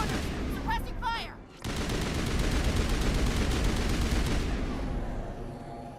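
Sustained automatic gunfire from a sci-fi shooter, Mass Effect Legendary Edition, in a loud continuous burst of rapid shots after a brief lull with electronic chirps, fading near the end.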